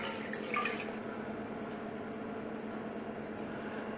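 Water pours steadily into a cooking pot that already holds apple cider vinegar for a coleslaw pickling mixture, giving a continuous, even splashing wash of moderate loudness.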